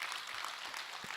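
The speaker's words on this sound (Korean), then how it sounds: "박수로 맞으세요." Brief burst of audience applause greets a questioner at a Buddhist monk's question-and-answer Dharma talk, a steady, even patter of clapping with no talk over it.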